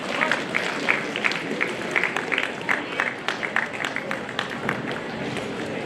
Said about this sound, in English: Please offer a round of applause to sir.